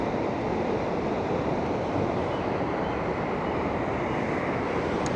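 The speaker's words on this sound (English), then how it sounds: "hopefully we'll be able to capture the power of this waterfall" Powerful waterfall spray crashing into the pool below, a dense, steady roar of rushing water holding constant throughout, loud and close with no voices.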